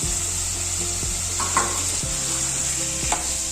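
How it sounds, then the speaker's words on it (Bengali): Boiled, slightly firm peas tipped into a hot pan, giving a loud, steady sizzle close by with a low hum underneath and a couple of soft knocks. "সেই কড়াইগুলোও দিয়ে দিলাম"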